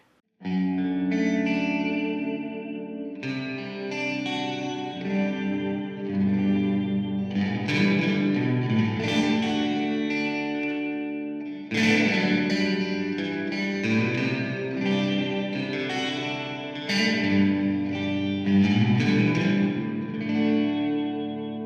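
An electric guitar plays sustained chords through an amp, washed in reverb and a shimmering chorus-like effect, steady and fairly loud throughout.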